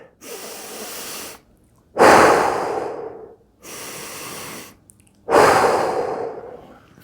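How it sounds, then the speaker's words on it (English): Deep, slow breathing during a bench hip stretch: four long breaths alternating a softer inhale with a louder, fuller exhale, close and clear with no talking. "Raise that arm up and breathe."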